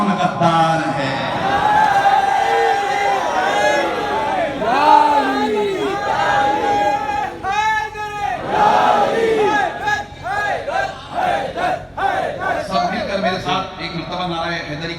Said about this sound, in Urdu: نعرہ حیدری کی صدائیں بلند کریں